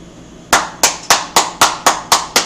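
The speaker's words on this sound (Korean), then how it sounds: "박수 치고요." Loud, crisp clapping rings out in eight evenly spaced, strongly rhythmic claps, each sharp and close, with a brief quiet lead-in and no talking.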